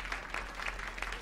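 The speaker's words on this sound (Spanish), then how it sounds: "Los aplausos desde los cuatro puntos cardinales para vos, Marco" Studio audience applause for a performer on a radio-television show, a brief, fairly faint patter of many hands clapping that swells and dips over about a second.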